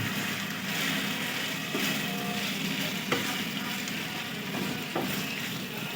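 Marinated chicken liver fries in a pan with a steady, loud sizzle while a spatula stirs it, giving occasional scrapes and knocks over the constant hiss.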